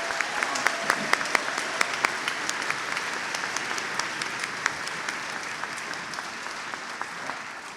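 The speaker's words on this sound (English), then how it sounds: "Let's give them another round of applause." Sustained audience applause after a school band concert, dense steady clapping from a large crowd that holds evenly for the whole stretch with no talking over it.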